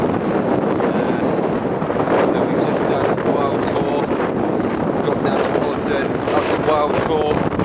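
Strong gale-force wind buffeting the microphone on open Dartmoor moorland near Hound Tor, a loud continuous roaring rush with gusty surges throughout, no voices.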